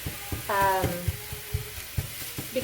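Lean ground beef fries in a dry pan with no added oil, a soft sizzle and crackle running under clattering utensil scrapes and stirring knocks, close and moderately loud.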